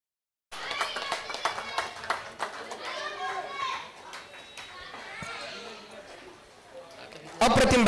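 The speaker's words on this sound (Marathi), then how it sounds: "जर एकदा जोरदार टाळ्या होऊन जाऊ द्या" Crowd at a local cricket league final applauding, claps and children's voices scattered through a lively chatter, ending in a louder burst of clapping.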